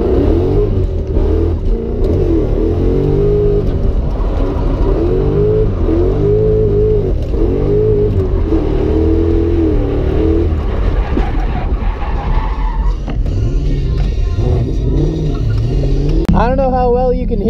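A drift car engine revs and accelerates up close, its pitch rising and falling in repeated pulls that hold steady throughout, changing character near the end.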